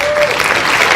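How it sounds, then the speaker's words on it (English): Steady, dense applause sound effect from a crowd, played at the start of a weather podcast, loud and continuous for the whole second, with a faint tonal whine briefly underneath at the start. "it's applause, not laughter yet"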